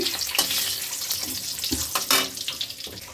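Bay leaves dropped into hot oil for a shoal kochu, potato and prawn curry, giving a broad hissing sizzle with a few louder spits and crackles as they hit, close and steady throughout.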